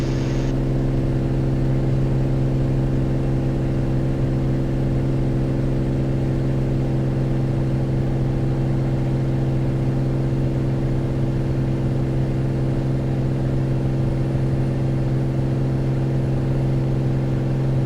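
A Cirrus SR22 light airplane's piston engine drones steadily during takeoff, a constant loud cabin hum with a strong low tone and even whir, unchanging and without talk.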